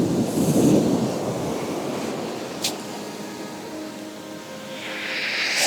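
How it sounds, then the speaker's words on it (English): Ocean surf washes up on a beach below misty mountains, a steady broad rush with a louder swell near the start and another rising at the end, heard alone with wind buffeting the microphone. "Every now and again there's a big wave that comes up to where we're standing"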